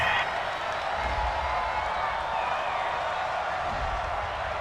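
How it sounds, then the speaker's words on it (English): A home football crowd at a Browns vs Dolphins playoff game boos a pass interference call, with a steady, distant, low crowd roar and a commentator talking faintly over it. "Some boos coming down right now from this home crowd after that call"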